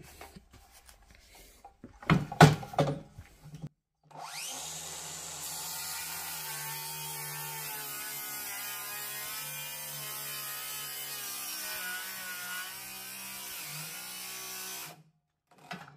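A power saw fitted with a Parkside blade strains through a cut, a steady loud whining drone held for about eleven seconds after a few brief clatters, with no talk over it.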